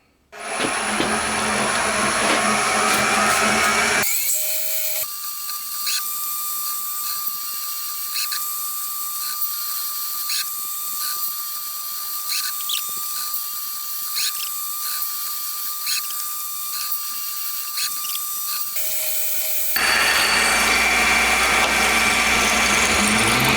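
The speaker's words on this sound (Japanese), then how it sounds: "座標を追いながら穴を開けていきます" A steady high-pitched mechanical whine runs for about fifteen seconds, with harsher grinding bursts before and after, as a drill cuts holes into a cast cylinder head for a 125cc four-cylinder engine.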